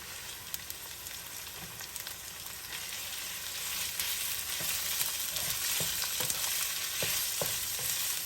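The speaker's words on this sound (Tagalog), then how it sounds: "So, gisahin lang po natin yung ating pork." Minced pork sizzling in a pan with golden-browned garlic and onion for palabok, a steady hiss of frying that swells slightly, with scattered clicks from stirring, close and unaccompanied by talk.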